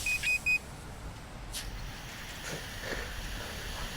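A breathalyzer sounds three short electronic beeps close by, then falls silent over low background rumble and faint handling noise.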